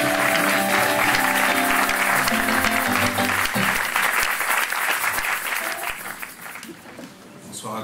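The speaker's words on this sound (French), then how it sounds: "Nous allons l'applaudir." Sustained applause from a church congregation during an evening service, loud and dense, with music and voices underneath, slowly fading toward the end.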